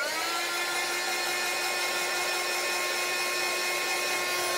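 A heat gun blows hot air for heat embossing, a steady, loud, continuous whine with a whooshing airflow and a fixed high pitch, running alone without a break.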